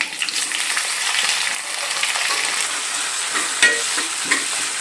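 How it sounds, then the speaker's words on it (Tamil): Chopped onions hit hot oil with fenugreek and fennel seeds for a spicy crab gravy. A loud, steady close sizzle carries through, with a couple of brief stirring knocks near the end. "அப்படியே நம்ம கட் பண்ணி வச்சிருக்கிற வெங்காயத்தையும் உள்ள சேர்த்துருவோம்"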